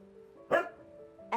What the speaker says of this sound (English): there's another dog out the window